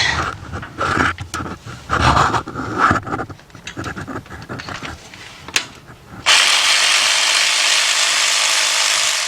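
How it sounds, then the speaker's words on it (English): A ratchet with an extension and 5/8 spark plug socket clicks in quick bursts of repeated ratcheting strokes, close up, then gives way to a steady broadband hiss. "I can use my 4-inch extension with my 5/8 spark plug socket."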